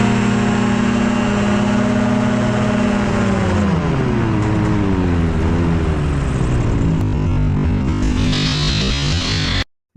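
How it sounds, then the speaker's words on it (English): The small engine of a Kolb Firefly ultralight aircraft drones loudly, then falters and sags in pitch as it loses power in an engine failure, wavering and fading before the sound cuts out abruptly. "that's Ben flying a Kolb Firefly, experiencing an engine failure at the worst possible time"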